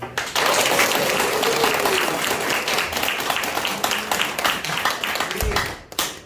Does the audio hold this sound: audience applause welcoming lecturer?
yes